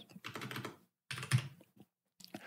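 Bursts of typing on a computer keyboard while entering a database password during a Nextcloud setup, a few quick clusters of keystrokes separated by pauses, close and with no talk.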